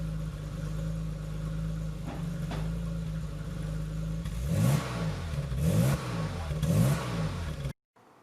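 A BMW engine idles with a low, steady drone, then revs three times in quick succession, each blip rising and falling, close and fairly loud.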